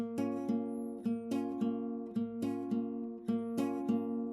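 Fingerpicked classical guitar notes ring out without left-hand muting in a steady repeating reggae pattern, each note sustaining and overlapping the next, played close and solo.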